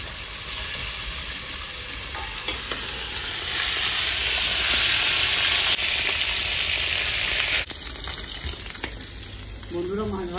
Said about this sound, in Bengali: তেল গরম হয়েছে, মাছ দিয়ে দিচ্ছি।